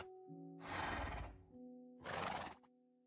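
Two loud, close horse neighs in Minecraft, each a shrill whinny lasting about a second, separated by a short pause over a faint steady game tone.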